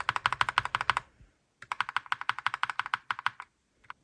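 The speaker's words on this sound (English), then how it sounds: "I'm gonna lube and film this one switch so we know how it's gonna sound" Fast, steady clacking of lubed and filmed mechanical keyboard switches, a brief pause, then another burst of typing that trails off into a few final clicks.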